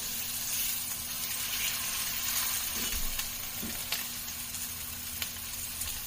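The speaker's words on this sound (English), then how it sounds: "And I'm just going to lay them down one by one, and I'm not going to touch them." Chicken pieces for blackened chicken Alfredo sear in a hot pan, a steady, fairly loud sizzle and hiss with a couple of soft thumps as pieces are laid down.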